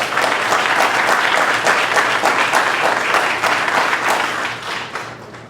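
An audience in a conference hall applauds the panelists at the closing speech of a finance forum, dense sustained clapping from many hands that fades out toward the end.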